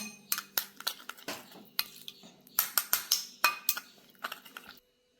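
A utensil stirs a fenugreek soap mixture in a measuring cup, making quick, bright clinks and scrapes against the cup in uneven bursts. The sound is close and stops abruptly near the end.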